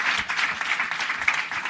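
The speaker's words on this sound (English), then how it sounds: "round of applause for this" An audience at a leadership summit applauds a panel with steady, dense clapping that fills the room without a break.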